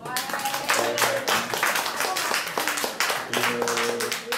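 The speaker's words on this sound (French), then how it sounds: "On peut l'applaudir quand même." A crowd claps in a brief round of applause, mixed with overlapping chatter and a few raised voices.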